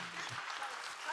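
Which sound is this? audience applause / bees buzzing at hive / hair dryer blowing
audience applause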